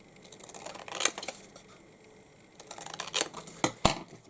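Scissors trimming paper in short bursts of crisp snips and rustles, close and fairly quiet, with a pause in the middle before a few sharper cuts.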